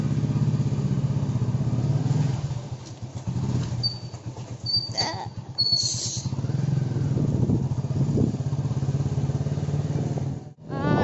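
A motorcycle rides through dark, empty Guwahati city streets at night during a Covid curfew. A steady engine drone runs throughout with road rumble, plus a brief high whine in the middle.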